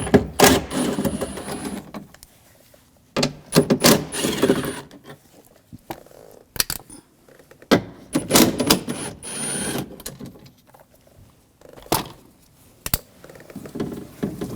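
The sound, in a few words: 10mm socket removing nuts on BMW window regulator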